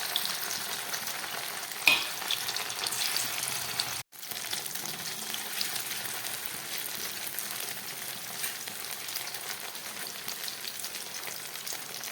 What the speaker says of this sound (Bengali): এবার এই কর্নফ্লাওয়ার আর নুন মাখা পনিরগুলোকে আমি ভেজে নেবো